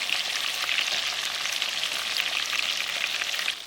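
Onions frying in bacon fat over potatoes in a Dutch oven at a campsite give a steady, close, loud hiss of sizzling grease with no talking.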